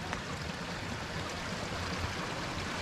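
A mountain stream rushes at a river crossing on the Kumara Parvatha trek, a continuous, close, broadband flow of water with no voices.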